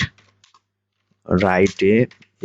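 A few sparse, soft clicks come from typing on a computer keyboard, followed by a person speaking close by.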